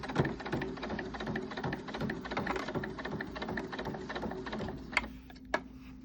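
A sewing machine stitches fabric for a Fallout Cooper Howard pre-war cowboy costume, running in a steady, close whirring rhythm for several seconds, then ending with two sharp clicks near the finish.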